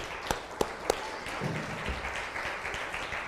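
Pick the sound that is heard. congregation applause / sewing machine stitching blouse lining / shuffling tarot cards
congregation applause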